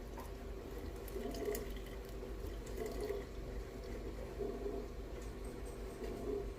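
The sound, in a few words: water poured into sourdough starter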